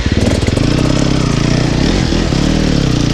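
An enduro dirt bike engine runs loud and close in spring riding, its rapid pulsing exhaust steady at first and then wavering as the revs shift.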